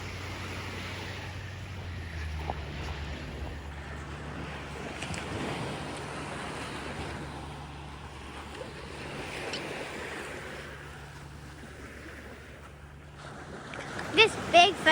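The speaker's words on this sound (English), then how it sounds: "Look at those waves crashing." Waves surging onto the shore at West Beach in Oak Harbor, Washington, a steady broadband wash of surf with wind buffeting the microphone, a low engine-like drone underneath, and a few sharp bumps near the end.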